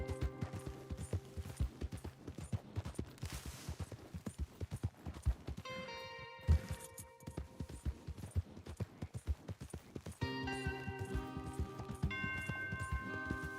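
Horses gallop in Red Dead Redemption 2, with rapid, steady hoofbeats running close and loud throughout, under a layer of game music.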